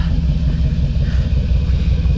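A 1978 Ford Bronco engine idling in snowy weather, a steady low rumbling burble with even pulsing, close up and continuous without talk.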